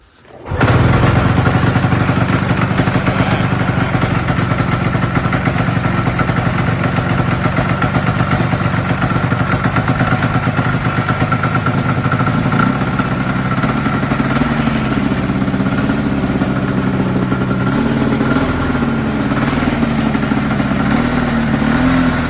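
A revived old snowmobile engine fires after a pull start and keeps running, a loud close two-stroke clatter that idles unevenly and rises slightly in pitch as it settles, steady for about twenty seconds.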